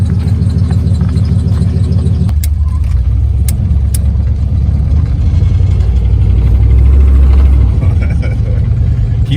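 A 1955 Chevy with a newly installed starter idles steadily close by, its low engine rumble continuous and loud on a cold, icy day, with a brief sharp squeal and faint clicks near the start.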